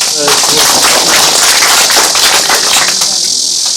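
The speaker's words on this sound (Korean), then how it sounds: "그까지는 우선 양해해 주시고 받아주시는 의미에서 박수 한번 칩니다" An audience at a meeting with descendants of righteous-army fighters in Jecheon breaks into applause, dense, steady clapping that fills the room loudly for several seconds.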